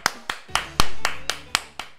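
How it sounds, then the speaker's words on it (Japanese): A lone man claps his hands, eight sharp, evenly spaced claps over two seconds, close and distinct with a faint low hum beneath. "いつもこんな感じで拍手をしております、一人で。"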